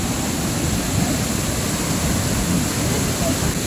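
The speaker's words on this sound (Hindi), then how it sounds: "ये पाइप एक फाउंटेन पे लगाया हुआ है" Mineral water pours from a pipe fitted to a fountain near Rakaposhi mountain in Gilgit, Pakistan, giving a loud, continuous, close-up roar of falling water without letup.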